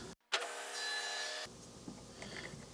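Table saw with a tenoning jig cutting a tenon, a loud motorized whirring rush that starts suddenly after a brief silence, holds for about a second, then drops away to quiet room noise.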